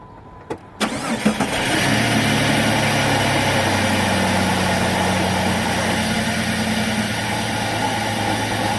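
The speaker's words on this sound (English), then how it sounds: "Seems to be idling okay." A car engine cranks and catches after coolant has been added, then settles into a steady, close, even idle that runs alone to the end.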